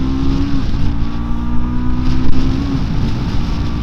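Triumph Scrambler 400X single-cylinder motorcycle engine revving high during light off-road riding, a loud, buzzy whine holding steady and rising slightly, close to the rider with wind rush underneath.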